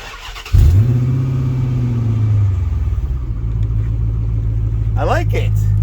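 A Chrysler 300C with a 5.7 Hemi and dual-in, dual-out rear muffler fires up with a sudden loud burst, then settles into a deep, steady exhaust rumble nearby, with people talking alongside it.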